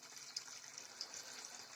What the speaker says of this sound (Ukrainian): в бак чи в відерце на об'єм 33 літри набирається водичка. Тепла водичка, звичайна з крана